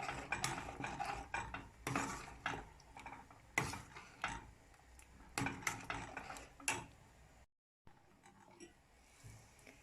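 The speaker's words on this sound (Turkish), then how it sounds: "Şöyle karıştırıyorum." A spoon stirs yogurt and mallow-root soup in a pot, clinking and scraping against the metal in irregular, quiet strokes with a brief pause near the end.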